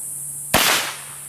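A single sharp rifle shot at an outdoor gun range, a sudden loud crack with a short fading echo, set against a steady background hum and no speech.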